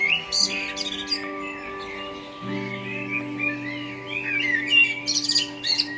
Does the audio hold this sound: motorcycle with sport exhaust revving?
no